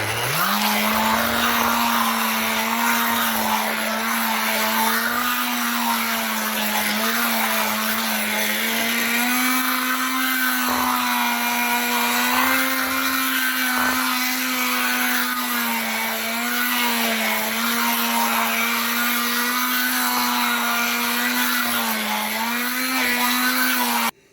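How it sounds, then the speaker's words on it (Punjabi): An electric blender churns cream into butter for ghee, a loud steady motor whine that holds one pitch for the whole stretch with only slight wavering and no voices. "ਬਲੈਂਡਰ ਨਾਲ ਫਟਾਫਟ ਹੋ ਜਾਂਦਾ ਹਾਂ"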